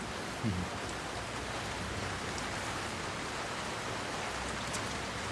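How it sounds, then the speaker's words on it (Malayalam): Rain falling steadily, a soft, even hiss of drops on surfaces heard at a distance, faint and unbroken, with a low thump at the start and no talk over it. "കറക്റ്റ് മഴ."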